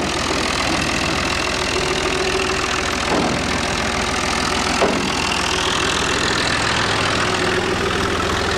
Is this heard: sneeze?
no